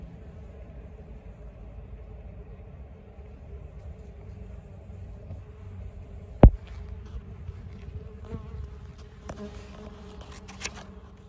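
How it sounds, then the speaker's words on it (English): A mason bee working mud onto the entrance of its nesting tunnel in a woodpile gives a steady, low, close-up buzz throughout, broken by a sharp knock and a few faint clicks. "Here you see one of the mason bees applying mud to the door of her tunnel"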